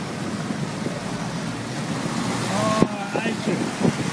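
A vehicle pushes through a deep water crossing in Moremi, with broad churning, surf-like wash and wind noise running throughout, joined by a few sharper splashes and knocks near the end.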